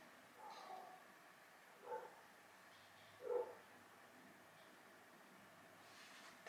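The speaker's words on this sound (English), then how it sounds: "There's like a dog barking." A dog barks far off: two or three faint, short barks spaced a second or so apart over a quiet indoor background, with no voices.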